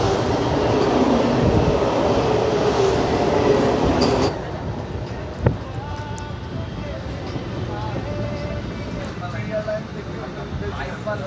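Humsafar Express running through Rampur junction without stopping, heard as a loud, steady rolling rush of train noise that drops to a quieter interior hum, with a single sharp clank and faint voices.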